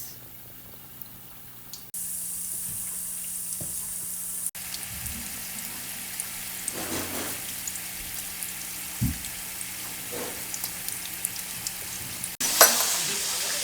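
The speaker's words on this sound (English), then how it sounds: "Put them in gently. Make sure they don't stick to each other. And we're just going to fry them until they're golden brown and delicious." Vegan Chik Fu nuggets deep-frying in oil give off a steady broadband sizzle that runs for most of the stretch, with a few brief clatters and bumps over it and no talking.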